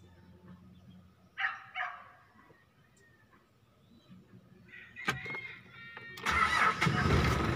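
A vehicle engine is cranked and starts after its diesel fuel pump has been bled of an airlock; quiet clicks and brief sounds lead in, then the engine catches and settles into a close, loud running idle.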